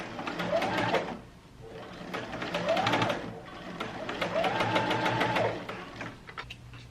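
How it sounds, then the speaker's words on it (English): Domestic sewing machine stitching along the outer edge of matched fabric pieces for a child's dress collar, running in three steady bursts with brief pauses between, close and clear with no talk. "I match the correct sides of the fabrics and I'm going to stitch along the edge,"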